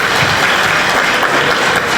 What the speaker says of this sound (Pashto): چک چک ورته وکړه